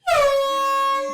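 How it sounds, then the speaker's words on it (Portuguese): A single loud air horn blast sounds up close and holds steady for about a second before cutting off. "Isso, a buzina!"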